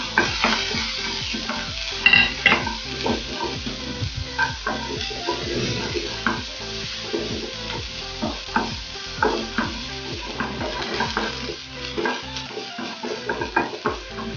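Onions fry in coconut oil for chicken tikka masala, giving a close steady sizzle broken by repeated scraping stirs of a utensil in the pan, with no talking.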